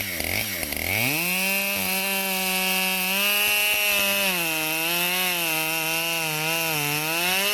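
Husqvarna 572 XP chainsaw cutting firewood, loud and close, revving up then holding a strained high-pitched drone that wavers as the chain bites through the wood, with no voices.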